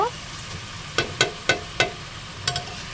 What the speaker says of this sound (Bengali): এখন চিকেনটা ভাজা ভাজা করব